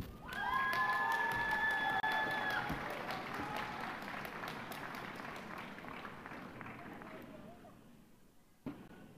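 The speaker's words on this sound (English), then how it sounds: "Another final round of applause for our graduates." A crowd applauds graduates at the 2022 Campbellsville University spring commencement, with a burst of clapping and a few cheers and whistles at first that gradually thins and fades in a large, distant-sounding venue.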